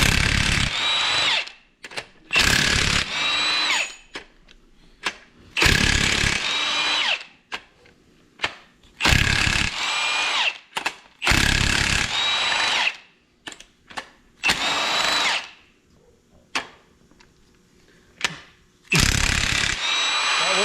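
A battery-powered impact tool loosens bolts on a Ford 6.0 diesel engine, firing repeated loud, close bursts of rapid hammering whir, each a second or two long, separated by brief quiet gaps.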